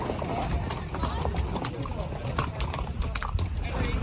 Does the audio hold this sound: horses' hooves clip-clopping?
yes